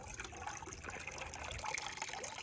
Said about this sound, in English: we gotta let the water drain as much as we can